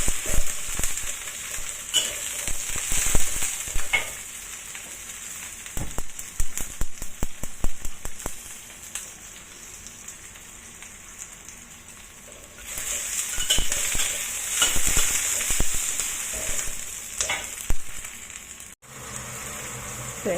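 Ginger, garlic and scallion sizzle and crackle in a hot pan for a pork belly dish, steady frying noise with stirring scrapes and bursts, close and fairly loud.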